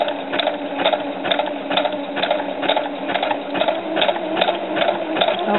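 A sewing machine runs steadily while stitching fabric with curled fishing line, its needle giving a fast, even mechanical chatter with a regular pulsing rhythm, close up and with no voices.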